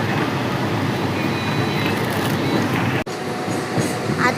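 A train rolls along the rails toward Virar, heard from inside a carriage as a loud continuous rumble with steady clatter, with one brief dropout partway through and no talk.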